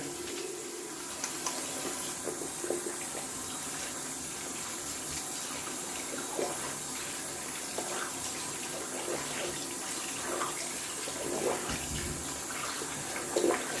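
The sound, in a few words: tap water washing out the sink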